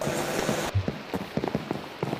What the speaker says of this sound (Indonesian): Ayo, mandi hujan.